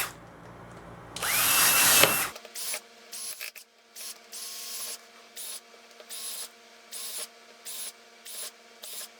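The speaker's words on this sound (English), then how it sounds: "drill some holes in the bottom of the anode basket. Drill some random holes." A power drill bores random holes through the bottom of a plastic anode basket used for silver refining: one loud, close, whining burst, then a string of short, evenly spaced bursts with brief pauses between them.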